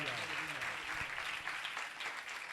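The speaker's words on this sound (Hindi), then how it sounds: "तालियां बजाएंगे" A church audience applauds loudly at a worship gathering, a continuous patter of many hands with a voice speaking over it throughout.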